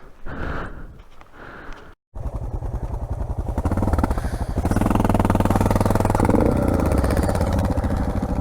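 Motorcycles ride off-road on a trail in Belanglo State Forest, engines droning steadily and growing louder and fuller after a brief break, with rhythmic pulsing as the bikes move along.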